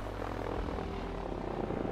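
A helicopter built in the Sunkenland survival video game, flying with a continuous droning rotor and engine roar that stays steady and fairly loud throughout the short clip.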